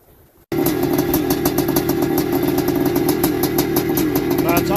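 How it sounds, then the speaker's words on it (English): A 1981 Suzuki RM 465 big-bore vintage motocross bike fires up and settles into a loud, close, steady two-stroke idle with a fast burbling pulse and a slightly uneven beat. "It's idling a lot better since I put new air cleaners on and put new fuel, cleaned the carby out."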